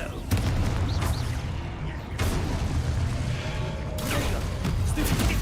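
A Confringo blasting spell goes off in Hogwarts Legacy, giving loud booming blasts: one near the start, another around the two-second mark and a third near four seconds, all over a continuous rumbling game soundscape.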